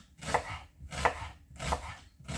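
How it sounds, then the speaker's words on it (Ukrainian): Knife chopping a large amount of onion into big half-rings on a board, three firm, evenly spaced cuts close up, with no voices. "цибулі багато, і я буду робити її крупненько напівкільцями"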